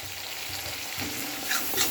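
Black cumin paste and turmeric frying in a pan for a pabda fish curry, a steady close sizzle with soft stirring scrapes throughout and a few brighter spatters near the end.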